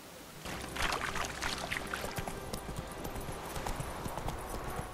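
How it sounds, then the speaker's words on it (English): A horse in the video game The Witcher 3 trots with steady, rhythmic clip-clopping hooves over a dense, noisy ambient background, continuous and fairly loud throughout. "now let's mount the horse."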